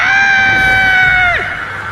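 A woman named Dawn lets out a loud, sustained high-pitched scream in a film. It holds steady, then breaks off sharply into a lower trailing tone.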